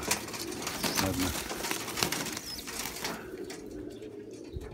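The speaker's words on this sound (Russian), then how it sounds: "Вот такой белокрылый, белохвостый голубь." Low, soft coos from a white-winged, white-tailed pigeon repeat close by over a steady bed of ambient noise.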